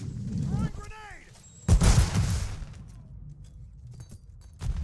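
A grenade blast and gunfire in a first-person shooter: a loud, heavy boom bursts out near the middle, followed by scattered shots and a low rumble. A short chirping radio effect comes first.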